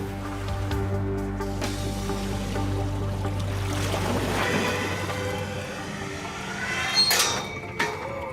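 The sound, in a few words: water rushing into sinking weighted box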